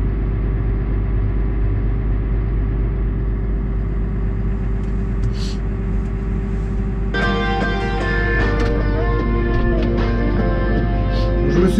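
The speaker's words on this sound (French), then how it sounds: "je rentre le tracteur à l'abri" A farm tractor idling and creeping into a shelter gives a loud, steady low diesel drone, joined about halfway through by brighter mechanical whine and clatter as it moves, with no talking.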